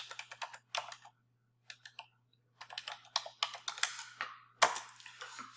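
Quick bursts of clicky keystrokes on a computer keyboard typing a search into WordPress, close and crisp, broken by short pauses and ending in a sharper tap.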